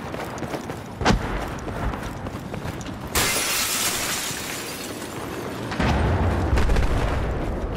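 Sniper gunfire in Battlefield 4 in a Shanghai setting: one sharp, loud shot rings out early, followed by sustained dense rumbling and crackling battle noise that swells again near the end.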